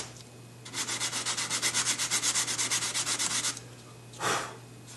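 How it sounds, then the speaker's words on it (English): Sandpaper works back and forth over primer on a painted surface in steady, close, rhythmic strokes for about three seconds, then pauses before one more quick scrape. "Now we'll see if we can sand this area right up in here."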